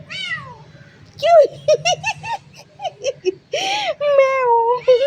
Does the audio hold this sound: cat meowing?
yes